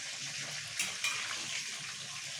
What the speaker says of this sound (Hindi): तो 4 से 5 मिनट के लिए हम लोग इसको और अच्छी तरह से फ्राई कर लेते हैं।